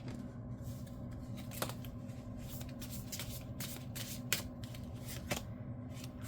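Oracle cards are shuffled by hand during a tarot-style reading, a steady close riffling with a few sharper card snaps standing out, no voices.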